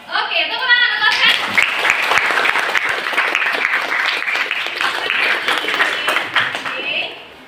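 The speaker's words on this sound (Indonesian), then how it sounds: "tepuk tangan untuk Askana" A classroom audience claps for a student named Askana during an Indonesian teacher-training session. A voice speaks briefly at the start, then dense, steady clapping fills the room for several seconds before tapering off.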